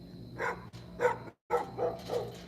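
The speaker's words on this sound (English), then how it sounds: "That's a puppy bark right there." A puppy gives a series of five short, high barks in quick succession, close by, with a brief pause midway.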